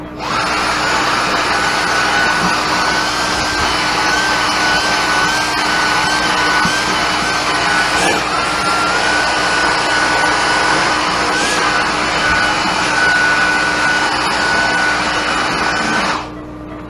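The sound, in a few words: vacuum cleaner sucking up clipped hair from a dog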